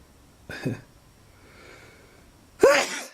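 Two sharp sneezes from a person in a workshop come a couple of seconds apart, each an abrupt loud burst of breath, the second stronger and closer, with quiet in between.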